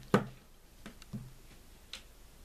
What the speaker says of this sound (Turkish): İki tıklamayla telefonumuz kendine geliyor.